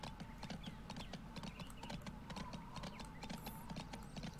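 Horse hooves clip-clop in steady rhythm in the video game Go Vacation, continuous and moderately close over a faint, busy game soundscape.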